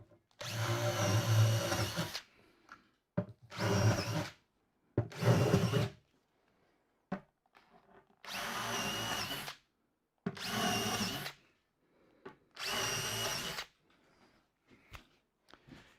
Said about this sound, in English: I'm going to drill a couple of holes in that one.